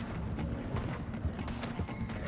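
Horse hooves clip-clopping in Red Dead Redemption, a quick run of close, moderately loud hoof thuds over a dense game background with a low hum, briefly and without speech.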